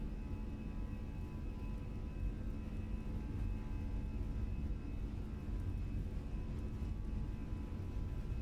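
A Fenix A320 airliner's engines hold a steady, even roar through its takeoff roll in a flight simulator, a constant low drone with no voices.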